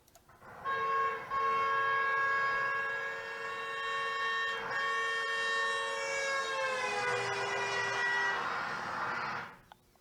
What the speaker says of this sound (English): the siren sounds higher in pitch when the truck is coming towards you